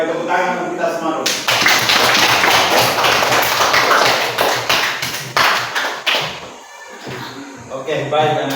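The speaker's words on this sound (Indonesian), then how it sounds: "tepuk tangan untuk kita semua dulu" A group of children applauds together in a classroom setting, with dense, sustained clapping that rises suddenly and runs for several seconds before tapering off, with some talk just before and after.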